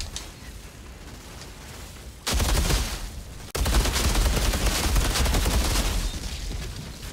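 Gunfire from the video game Outriders comes as dense, continuous bursts. A quieter stretch of shooting is followed by two loud, sustained volleys that start abruptly.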